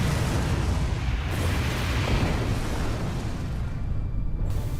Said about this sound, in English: That explosion there taking out the door